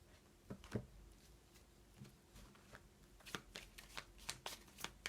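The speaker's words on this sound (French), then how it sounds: "Je bats les cartes." A deck of tarot cards shuffled by hand in quiet, close-up riffles and soft slaps that quicken into a brisk run of shuffles near the end, with no voice.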